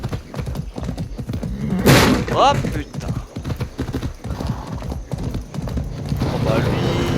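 A horse in the video game Far Cry 6 gallops with a rapid, steady clip-clop of hooves and lets out a short neigh near the start, heard close and loud under occasional talk.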